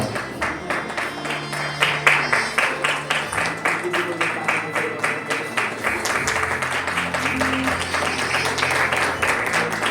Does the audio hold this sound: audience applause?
yes